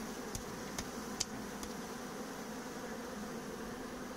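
Honeybees hum around the hive in a constant, even drone with no letup, and a few faint ticks and knocks stand out early on.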